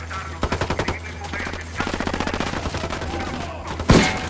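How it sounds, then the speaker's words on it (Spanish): Rapid automatic gunfire from cartel hitmen in the video game Ghost Recon Wildlands, two loud sustained bursts of rhythmic shots with a sharp blast near the end. "Los sicarios no dejan de disparar al maldito emisor."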